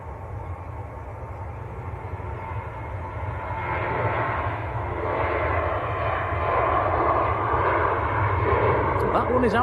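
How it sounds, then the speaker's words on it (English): A Ryanair jet airliner accelerating down the runway at Manchester Airport on its takeoff roll, engine roar building steadily in loudness over several seconds while a person talks over it. "Ryanair, again on the roll."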